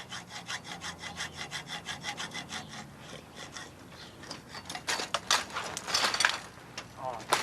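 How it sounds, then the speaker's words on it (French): A hacksaw cuts through a padlock in quick, steady back-and-forth rasping strokes, close and fairly loud. The strokes grow harsher and more irregular toward the end, with a voice talking partway through. "Moi, je préfère utiliser la scie à métaux."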